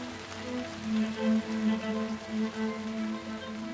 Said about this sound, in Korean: 마침내 더위를 식혀줄 비가 내립니다